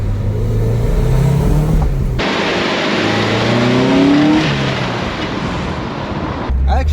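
A KA24DE-swapped Nissan 240SX accelerates hard and drives fast over a speed bump, the engine roaring and rising in pitch before a sudden shift to loud road and wind rush, then a drop back to idle.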